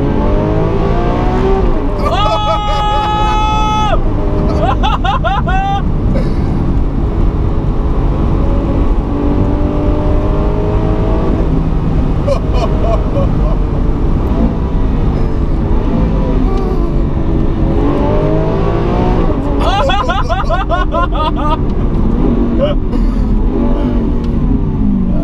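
A Lamborghini Aventador SV revs hard, its loud engine note climbing and falling in repeated bursts, with a sharp high-pitched surge near the start and another toward the end, and voices talking over the sustained roar.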